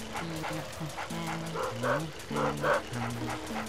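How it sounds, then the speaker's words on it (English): A small, yappy dog barks repeatedly in the haunted-mansion video game Luigi's Mansion, in quick, high yips over a looping game music background. "Make that yappy dog be quiet!"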